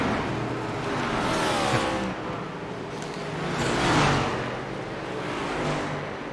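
Next Gen stock cars race at Daytona in a video game, engines roaring loudly as several cars sweep past in waves that swell and fade.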